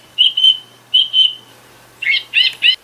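Song thrush singing alone in clear repeated phrases: two bright whistled notes, a pause, another pair, then three lower, richer repeated notes, close and loud against a quiet background.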